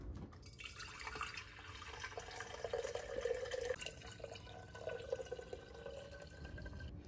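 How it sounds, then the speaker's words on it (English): Filtered water running from a tap into a container for a kombucha SCOBY hotel, a steady continuous stream with faint dripping, close and moderately loud, no voices. "I'm gonna go fill this up probably one more time just with good filtered water."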